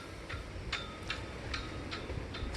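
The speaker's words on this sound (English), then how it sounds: "the next step is to remove these 8 bolts that are holding on your tire carrier" A ratcheting socket wrench clicks in a quick, even rhythm, about six crisp ticks in under three seconds, close up while backing out the tire carrier bolts on a Ford Bronco.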